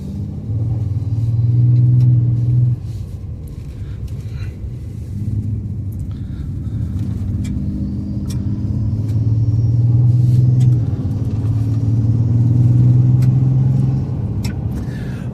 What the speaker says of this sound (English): does that turbo sound annoy you?